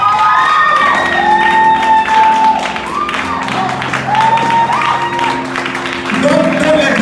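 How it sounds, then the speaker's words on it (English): An audience claps along at a live music comedy show, a rhythmic patter of many hands running under loud singing and a shouting voice. "Can you keep clapping?"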